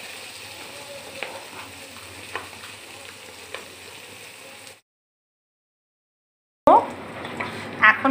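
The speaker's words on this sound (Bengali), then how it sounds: "তো এখন আমি সুন্দর করে মাছগুলো ভেজে নিই।" Fish fry in frothy mustard oil with a soft, steady sizzle and a few sharp crackles, which cut out into silence before louder frying returns.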